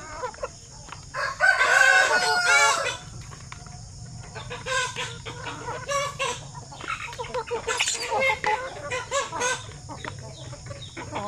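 A rooster crows loudly once nearby, followed by scattered clucking and chicken calls from a flock.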